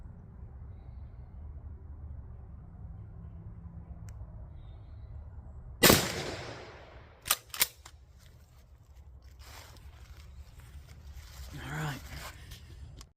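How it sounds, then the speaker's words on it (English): A Remington 870 Express Magnum 20 gauge shotgun fires at a raccoon outdoors: one sharp, loud blast, then two quicker bangs after a pause, over a quiet rural background. "I'm going to take these last 2 shots on that raccoon and see how well this one"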